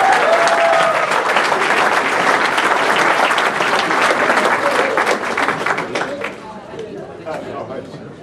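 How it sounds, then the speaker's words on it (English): A hall of fame induction audience applauds steadily, loud and sustained with some crowd chatter, gradually thinning out toward the end. "Please put your hands together."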